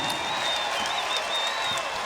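The home crowd of Lady Vols women's college basketball fans at a game against Missouri gives a sustained round of applause, dense and even throughout, with a faint high whistle riding over the noise.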